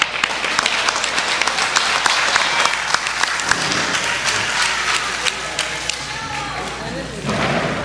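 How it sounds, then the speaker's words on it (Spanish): Loud applause from the floor of a legislative public session on International Women's Day, with a few sharp thumps and a voice speaking over the clapping near the end. "un fuerte aplauso para todas ellas"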